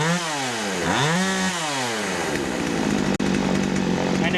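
A Poulan chainsaw, its carburetor just adjusted, revs up and drops back in two quick blips, then settles into a loud, steady buzzing idle close by, broken by one brief cutout.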